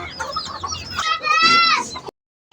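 A chicken clucks and squawks close by in a quick run of sharp calls that rise into a loud, drawn-out cackle, then stops abruptly.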